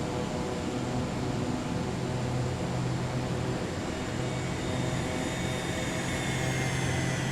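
A plane's engine roars at full throttle in Microsoft Flight Simulator 2024, a loud, steady drone with a constant hum and whine that holds unbroken from start to finish, with no voices.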